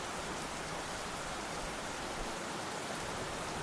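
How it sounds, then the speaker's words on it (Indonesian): Heavy rain falls as a sound effect in an audio drama, a faint, constant, even hiss of downpour lasting a few seconds without pauses or other sounds. "hujan turun dengan derasnya"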